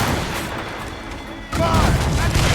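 Ship cannon fire in the naval combat of Assassin's Creed Rogue, a heavy booming volley that erupts suddenly after a quieter stretch of rumbling ambience, with voices shouting nearby.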